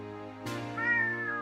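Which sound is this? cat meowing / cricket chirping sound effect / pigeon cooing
cat meowing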